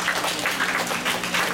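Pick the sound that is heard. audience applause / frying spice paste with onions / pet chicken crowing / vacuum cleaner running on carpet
audience applause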